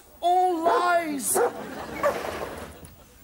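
A dog barks and yips in a short excited burst, close and fairly loud, followed by quieter rustling and indistinct sounds.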